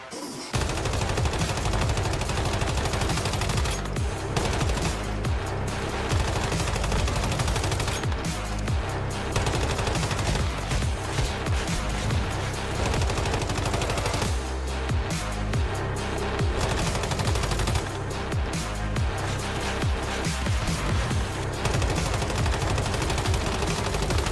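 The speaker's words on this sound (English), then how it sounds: "We eventually managed to fire the final few bullets to take down the servitor" Heavy continuous gunfire from Destiny while shooting the secret servitor boss, rapid loud repeated shots layered with effects and explosions, sustained for the whole stretch with only brief dips.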